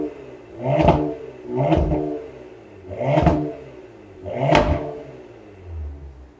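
Cadillac sedan engine revs hard four times in a steady rhythm, each loud swelling roar falling back with crackling exhaust pops, heard close and with no talking.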